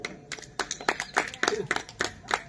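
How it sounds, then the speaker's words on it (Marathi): Uneven clapping from a village audience for a bhajan performer, a few hands clapping in loose bursts at moderate volume, with voices mixed in. "एकदा जोरदार माझ्या भावासाठी टाळ्या बोलू"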